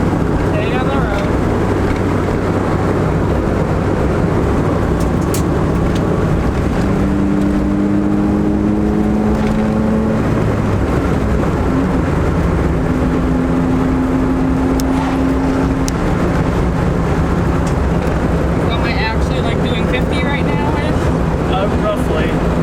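A right-hand-drive Acura Integra on the move, steady engine drone and road rumble with wind noise throughout, rising and falling tones as the engine revs through gears, with people talking inside.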